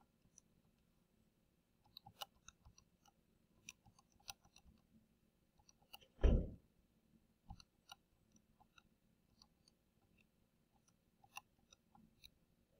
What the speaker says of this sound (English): So then I want to go ahead and type this in the calculator.